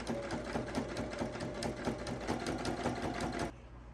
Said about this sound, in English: we're going to sew down this side using a 5/8 of an inch seam allowance